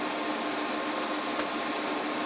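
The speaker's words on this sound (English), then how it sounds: "the AC inverter is now kicking on its fans" Cooling fans of an AC inverter running while powering an oil heater from a 300Ah heated LFP battery, a steady, close, broadband whoosh with no talk.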